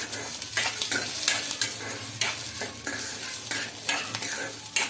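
Onions and other ingredients fry in a pan with a continuous loud sizzle, broken by repeated bursts of stirring at a fairly regular pace, with no voices.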